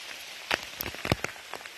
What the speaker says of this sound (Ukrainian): Дощ все сильніший і сильніший.